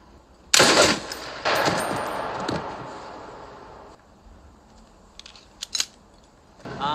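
Gunfire from a war film scene: a sharp loud burst opens, followed by a second sustained crackling volley that slowly fades, then a few faint isolated pops and a late burst near the end.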